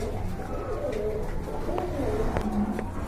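A pair of large local pait pigeons at a pet shop coo softly and repeatedly at close range, with low murmuring background noise throughout.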